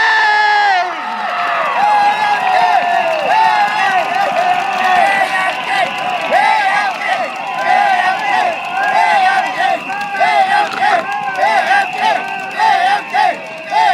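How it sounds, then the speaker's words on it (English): A large crowd at an outdoor election rally in Tampines, Singapore, cheers, whoops and applauds loudly and continuously as a candidate is introduced, many voices shouting over one another. "Please give a round of applause to Mr. Bae Yap Keng!"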